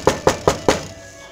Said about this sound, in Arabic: سمعت طرقا على الباب.